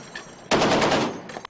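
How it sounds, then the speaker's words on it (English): A loud, rapid burst of automatic gunfire aboard a ship during a naval exercise, close and sharp, followed by a shorter burst after a brief gap. "the piercing sound of gunfire is already ringing out over the ship"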